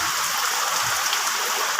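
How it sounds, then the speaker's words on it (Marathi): Rain pours outside a village house during the Ganpati season, a dense, even hiss of drops drumming on surfaces close by, steady throughout with no voices. "आताच पाऊस सुरू झालाय बघू शकता तुम्ही."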